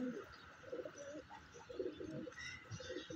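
Soft pigeon cooing, several low rounded coos repeating in a gentle rhythm over faint background noise, fairly close.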